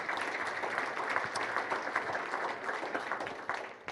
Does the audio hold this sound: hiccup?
no